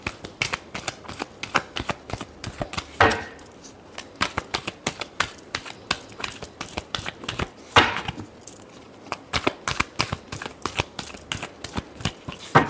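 Tarot-style cards shuffled by hand for a reading, giving rapid close riffling and flicking clicks in repeated bursts with brief pauses, loud and alone with no talk.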